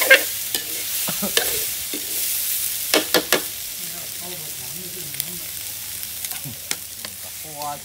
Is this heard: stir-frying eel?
yes